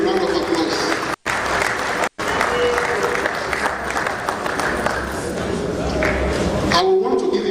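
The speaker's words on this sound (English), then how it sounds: "Let's give him a round of applause" Audience applause at a national convention and annual lecture, a dense, loud and sustained wash of clapping from a large crowd in a hall, briefly cut out twice and ending abruptly.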